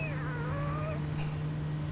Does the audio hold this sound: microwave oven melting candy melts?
no